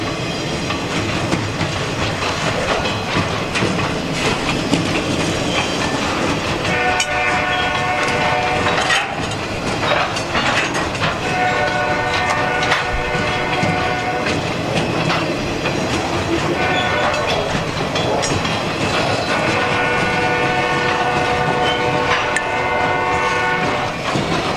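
Freight train of box cars and wood loads rolling past in a snowstorm, a loud continuous rumble with rhythmic clickety-clack of wheels and a sustained horn sounding in several blasts, heard close and alone.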